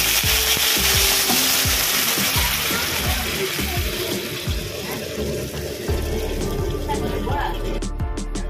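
Water poured into sizzling fried spice masala and vegetables for chhanar bora shukto, a loud rushing hiss and bubbling sizzle up close, sustained throughout.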